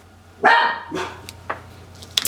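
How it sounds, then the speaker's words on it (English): A dog barks several times nearby, a loud bark followed by a few shorter, sharper yips, with quiet pauses between them. "my dogs are barking"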